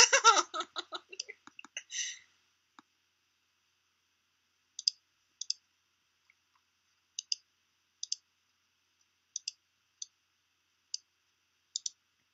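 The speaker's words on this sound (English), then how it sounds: "Both of y'all type way too fast." Keyboard typing clicks come in small scattered bursts of one or two keystrokes across the stretch after a burst of giggling and laughter at the start, with long quiet gaps between them.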